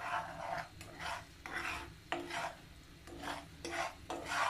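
Caramel turning brownish is stirred in a pan on a stove, with repeated rasping scrapes in a steady back-and-forth rhythm, close and fairly quiet, with no talking.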